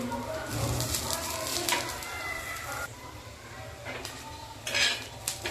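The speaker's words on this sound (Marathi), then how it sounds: "आता आपल्याला अजून कांदा हा परतून घ्यायचा आहे" Onion sautéed in a pan for an eggplant rassa curry produces faint sizzling along with repeated clinks and scrapes of a utensil against the metal pan, fairly quiet and close.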